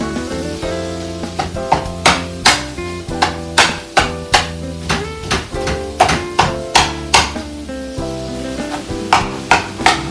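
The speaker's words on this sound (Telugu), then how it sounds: "క్యాప్సికమ్, ఆనియన్స్ వీటన్నిటిని కూడా మంచిగా ఇట్లా చాప్ చేసుకోవాలి దీంతోనే" A knife chops capsicum and onions on a cutting board in rapid, regular knocks, about twenty crisp strikes over ten seconds, up close beneath steady background music.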